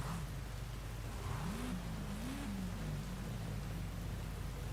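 Peugeot 205 driven gently in Forza Horizon 5, a faint low engine drone that wavers as the revs rise and dip, under a steady hiss of background noise.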